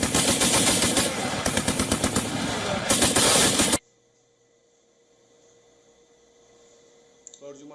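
Military strike with loud, rapid automatic gunfire in dense bursts for about four seconds, then an abrupt cut to a low, quiet hum.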